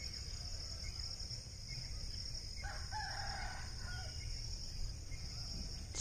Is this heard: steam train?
no